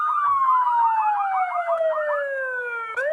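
A Palermo SmartCam's motion-detection alarm siren plays from a phone app, a loud, steady electronic wail sweeping up and down in rapid cycles while slowly falling in pitch, then breaking off abruptly near the end.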